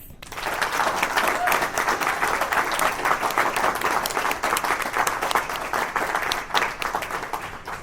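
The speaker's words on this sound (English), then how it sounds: "I want you to all please join me in another round of applause for Ricky, Keri, Steve, and Chris." An audience at a school awards ceremony gives a sustained round of applause for the honorees, a thick, even wash of many hands clapping from start to finish.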